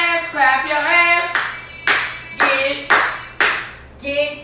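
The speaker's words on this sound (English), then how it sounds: "clap your hands" Several sharp, separate hand claps ring out in a loose rhythm during a casual chat show, each one distinct and close, with voices chanting and talking between them.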